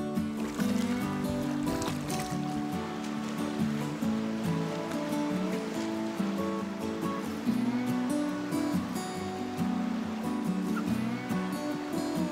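Steady rushing water fills a canyon, a broad continuous flow across its full width with a low rumble, loud and close, with no voices.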